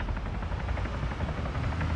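A helicopter in Arma 3 keeps up a steady low rotor drone that sounds fairly distant, with no speech over it.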